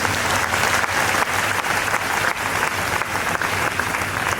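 An audience at a church synod breaks into steady, sustained applause, a dense unbroken wash of clapping hands filling the room with no voices standing out.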